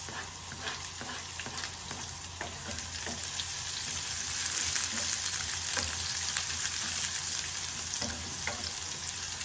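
Onions frying in a pan at home, a steady close sizzle with faint scattered clicks and scrapes, no voices.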